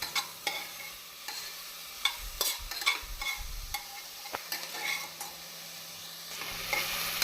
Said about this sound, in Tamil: தக்காளி பழம் போட்டு ஒரு நிமிடம் நாம் நன்றாக வதக்க வேண்டும்